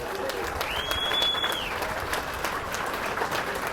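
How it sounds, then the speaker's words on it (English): A crowd claps and cheers for an angler at a fishing tournament weigh-in, a continuous wash of applause with a brief whistle rising above it, voices faintly mixed in. "How about one more big round of applause for Hunter Bogman?"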